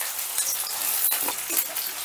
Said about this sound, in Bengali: তেলটা গরম হয়ে গেলেই দিয়ে দিচ্ছি কুচনো বড় সাইজের একটা পেঁয়াজ।